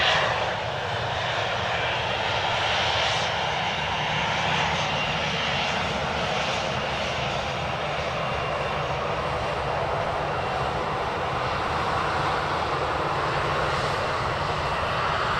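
A steady, loud roar of aircraft engines fills the air at Edmonton International Airport, a continuous broadband rumble holding level throughout with slight swells, as planes taxi fast nearby.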